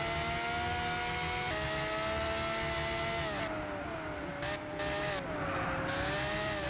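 A supercar engine drones steadily in Gran Turismo 6, its pitch rising and dipping through gear changes while tires squeal intermittently during hard cornering, with no speech.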